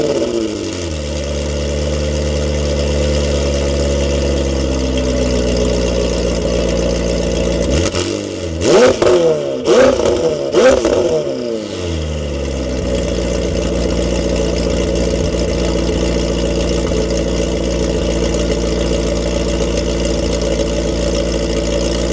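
A McLaren 720S fitted with Steso boost and intake elbows idles with a steady, close, droning hum, then breaks into several sharp throttle blips and revs before settling back to a smooth idle.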